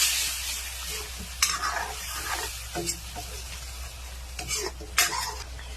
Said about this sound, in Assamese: এতিয়া অকণমান পানী দি ভালদৰে এনেকৈ মিক্স কৰি ল'ম।